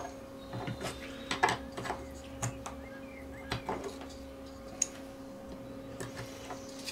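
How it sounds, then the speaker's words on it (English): A pick-and-place machine assembling LED boards produces steady mechanical clicking and ticking in irregular bursts over a constant electrical hum, moderately close, with no talking. "the pick and place machine takes 2 minutes to assemble one of these boards"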